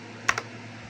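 Two quick keystrokes on a computer keyboard while entering a command into a serial monitor, crisp and close, in a quiet room with no talking.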